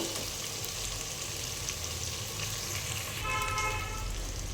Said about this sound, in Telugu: అల్లం వెల్లుల్లి పేస్ట్ బాగా ఫ్రై అవ్వాలి